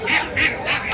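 Two-month-old ducks at the Bhawal Mirzapur poultry market in Gazipur quack loudly and close by, three nasal calls in quick, even succession.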